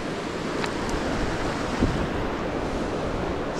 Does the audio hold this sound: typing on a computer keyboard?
no